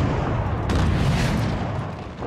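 Artillery cannon fire in the video game Forts: a loud, heavy boom with a long rumbling tail that fills the whole moment, with no voices over it.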